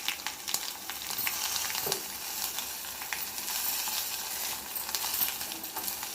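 Spices tempering in hot oil for mango dal, a soft continuous sizzle and crackle with occasional small clinks and stirring sounds, fairly quiet and close.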